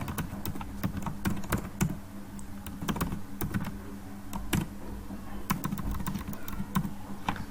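Computer keyboard typing while entering an HTML title, rapid close clicking keystrokes in uneven bursts over a faint constant background hum, with no talking.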